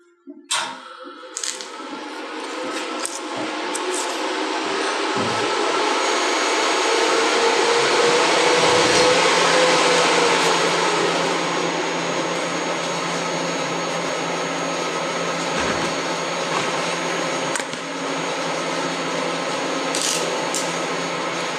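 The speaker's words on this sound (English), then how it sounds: "Now when I turn it on, it's going to get a little bit noisy. I apologize for that, but these inverters have some pretty high-speed fans." High-speed cooling fans of a TIG welding inverter spin up into a steady, close whooshing hum with a few small clicks and handling sounds, in a workshop where a cast aluminum motorcycle wheel hub is being repaired.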